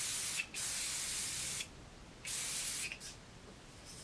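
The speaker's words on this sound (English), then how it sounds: "so we'll spray those." Spray can releasing several hissing bursts, close and steady, with short gaps between the sprays and no voices.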